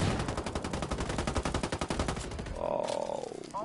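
A PSG sniper rifle and other weapons fire in a Ghost Recon Wildlands firefight: a fast, evenly spaced volley of loud, close shots for about two seconds, then quieter shots and a brief wavering tone, with no talking.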